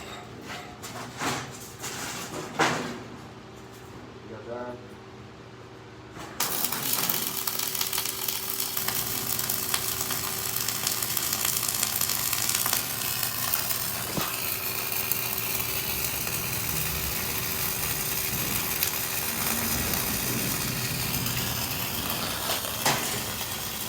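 Flux-cored arc welding at 250 amps on an uphill pass gives off a steady, close, harsh crackling hiss. It begins after about six seconds of quieter shop noise and holds constant to the end.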